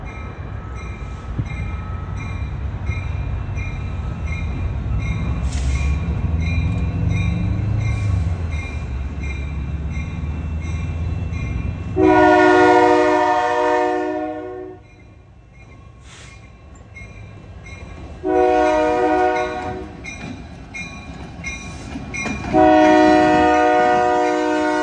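A Union Pacific freight train rumbles steadily past up close in Springfield, Oregon, its horn blaring in several long blasts over the grinding, clattering roll of the cars.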